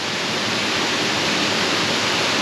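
A waterfall on the Laguna Falls hike in California gives a steady, loud, unbroken rush of falling water, with no voices over it.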